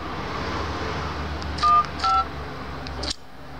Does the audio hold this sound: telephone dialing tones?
yes